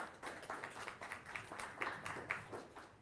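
Faint, scattered hand clapping from a small audience at a formal launch ceremony for a Sharia-compliant financial window, distinct individual claps in an uneven rhythm, fairly distant and quiet.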